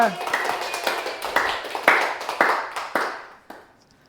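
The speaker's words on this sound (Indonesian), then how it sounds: "Berikan tepuk tangan untuk kelompok 2" Students in a microteaching classroom clap for group 2, a short burst of rhythmic hand claps with a few voices at the start, quickly thinning out and fading to near silence.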